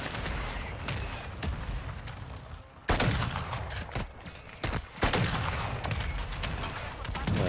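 Cluster airstrike explosions in Call of Duty Warzone on Al Mazrah, loud rumbling blasts landing close in two heavy bursts with continuous crackling gunfire-like detonations between them.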